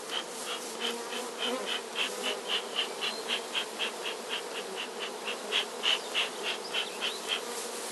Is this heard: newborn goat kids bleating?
no